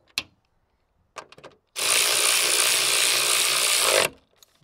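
Cordless impact ratchet running a bolt back on: a single loud, continuous whirring burst of about two seconds, preceded by a few brief clicks and handling knocks.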